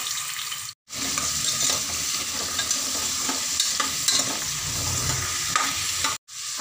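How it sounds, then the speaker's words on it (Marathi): Carrots sauté in two spoons of ghee inside a pressure cooker for carrot halwa, giving a loud, steady close sizzle with stirring scrapes that continues throughout, broken by two brief silent gaps. "आणि त्यामध्ये हे गाजर परतून घ्यायचे"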